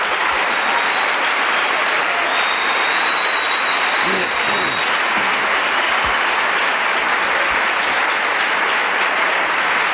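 A church congregation applauding loudly during a Spanish-language sermon: a dense, continuous roar of many hands clapping, filling the room at steady high volume with no break.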